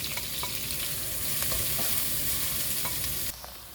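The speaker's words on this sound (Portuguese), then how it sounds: "Eu vou deixar essa cebola refogando" Chopped onion sautéing in a pan for a baked hearts-of-palm pastry filling, a steady close sizzle with occasional stirring scrapes, cut off by a brief quieter tail at the end.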